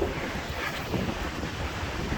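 Sea waves and wind at the seashore on a sandy spit, a steady low roar of surf with wind buffeting the microphone, fairly faint and continuous, no voices.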